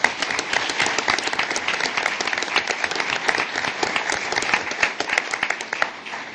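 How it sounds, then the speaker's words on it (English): An audience at a real estate and credit meltdown lecture event gives a round of applause: dense, steady clapping from many hands, moderately loud and continuous throughout. "Please give these people a round of applause."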